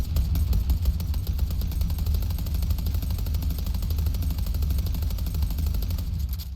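Rapid automatic gunfire from the video game Deadlock, a dense continuous stream of shots rattling evenly at a steady rhythm, loud and close with a heavy low-end thump under each round.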